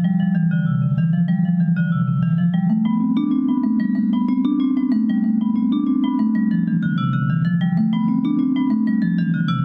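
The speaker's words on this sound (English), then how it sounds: "So this is a bass metallophone." A bass metallophone, the largest of the Orff mallet instruments, rings out in a classroom with a sustained run of low, resonant metallic tones that overlap and glide up and down, played alone and fairly loud.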